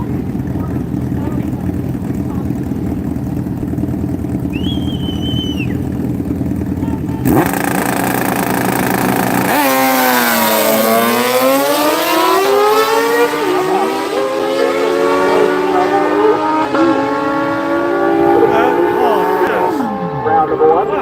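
A Suzuki GSX-R drag bike launches at Seattle International Raceway, its engine screaming up through rapid gear changes in a loud, sustained rising howl that drowns out a track announcer talking over it.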